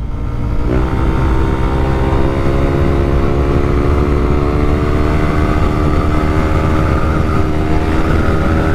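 Yamaha Aerox scooter with a 195cc racing engine revving hard toward maximum RPM, a loud, steady high-pitched engine whine with rising harmonic tones that climb and hold near the limit, close up with no talking.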